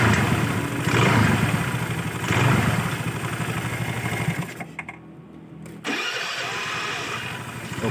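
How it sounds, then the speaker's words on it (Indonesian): A Honda Vario 110 scooter's electric starter cranks repeatedly after a starter dynamo bearing repair, giving several close whirring bursts before the engine fires and settles into a steady idle after a short pause. "Kita coba saja apakah bisa nyala atau tidak double starternya."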